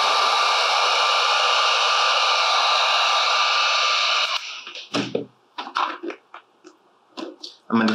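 A heat gun blows steadily for about four seconds as it warms vinyl wrap on a Traxxas XO-1 RC car body, a loud, even hiss and whir that cuts off, followed by faint handling clicks and rustles.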